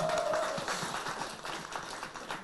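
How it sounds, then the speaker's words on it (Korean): An audience claps at a Suwon city council anniversary event, a dense, steady patter of applause heard at moderate volume from across the hall. "박수 한번 해주십시오."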